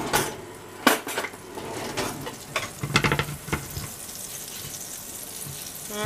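Clattering pan and utensil clinks give way to a steady, soft sizzle of butter in a hot frying pan, with no talking.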